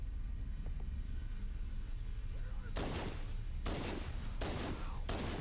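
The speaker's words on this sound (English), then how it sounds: "They're throwing grenades at each other." Gunfire and grenade blasts in the video game Halo: Combat Evolved, a low rumble and scattered pops, then four loud explosive bursts in quick succession near the end.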